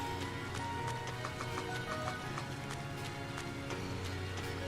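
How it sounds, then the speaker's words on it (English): Horses in a stable in Trails of Cold Steel stamp and clop their hooves in irregular, fairly crisp knocks over a steady rain hiss and faint game music. "A number of horses are being raised in the stable."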